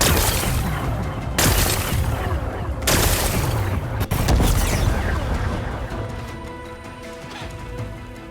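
Several loud, close explosions go off in the game Horizon Forbidden West, sharp blasts about every second and a half with rumbling debris after each, fading into a quieter tail.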